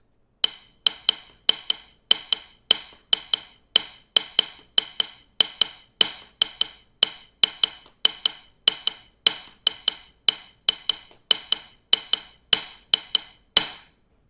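Crisp, dry drum strokes rattle out a steady repeating pattern of grace-note hits and quick triplet groupings, played alone at a brisk, even pace.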